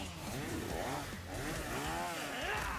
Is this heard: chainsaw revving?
yes